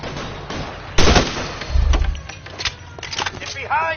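Gunfire in the video game L.A. Noire: a loud burst of shots near the start, followed by scattered further shots and impacts amid game noise, with voices calling out over the action.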